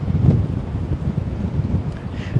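Wind blows hard across the microphone outdoors, a loud, steady low rumble with gusty swells.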